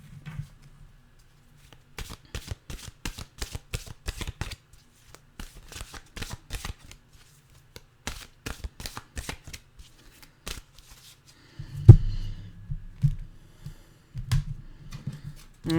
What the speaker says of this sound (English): let's get a mantra card